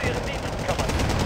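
Gunfire in the video game Wargame Airland Battle, a dense, rapid burst of shots that sounds like a machine gun, loud and continuous across the short moment, with a voice faintly underneath.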